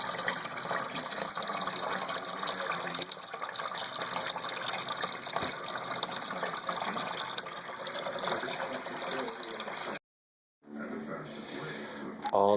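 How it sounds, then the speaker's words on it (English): Homebrew wort drains from a mash cooler during the sparge in an all-grain brew, a steady close gush of flowing liquid that runs continuously, cuts out briefly near the end and resumes, with a voice talking over it. "And coming out here, we've got our wort."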